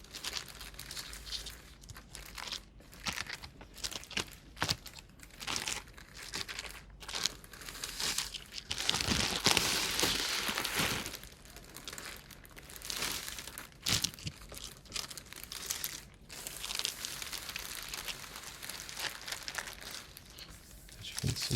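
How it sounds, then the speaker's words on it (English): Plastic packaging crinkles and crackles close up while a Critical Role Grog statue from Sideshow Collectibles is unboxed, in continuous rustling bursts with sharper tearing moments. "The plastic triggers, crinkling, I guess we'll call this."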